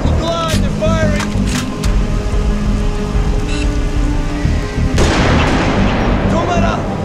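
Gunfire in the video game Halo: Reach, loud and dense with sharp shots and booming bursts over a continuous noisy bed, with a strong crack near the middle and another near five seconds.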